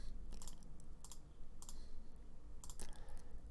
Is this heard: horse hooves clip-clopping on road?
no